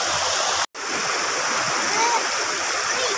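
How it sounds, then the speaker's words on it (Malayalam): A waterfall in the middle of a forest roars steadily and close by, a dense, continuous rush of falling water with a brief dropout near the start. "കാടിന്റെ നടുക്ക് ഇങ്ങനെ ഒരു വെള്ളച്ചാട്ടം എന്ത് രസമാണ് നോക്കിയേ"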